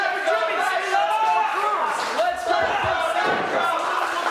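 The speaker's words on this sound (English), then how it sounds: "And the crowd chanting on Nitro." A wrestling crowd at an independent pro-wrestling show chants in unison: many voices rising and falling together in a loud, sustained roar that fills the hall throughout.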